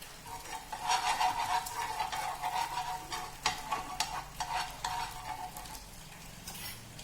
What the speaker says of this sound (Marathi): तवा छान आपला गरम झाला आहे त्यावर टाकूया थोडं तेल